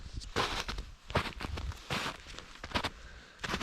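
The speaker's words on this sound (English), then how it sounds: "And the footsteps in the snow." Footsteps crunch through snow in a winter wilderness in Scotland, a close, steady series of about six soft crunching steps heard alone and fairly quiet.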